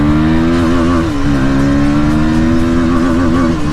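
KTM Duke 160 motorcycle engine while riding in third gear: a steady, loud, close buzzing drone with a slight dip and recovery in pitch partway through, and no voices.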